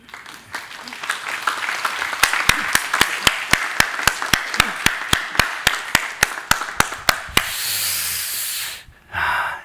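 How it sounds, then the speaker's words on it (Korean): A church congregation applauds, a dense wash of clapping with a steady rhythmic beat running through it for several seconds before fading into a hiss and a short breathy pause. "큰 격려의 박수를 부탁드리겠습니다"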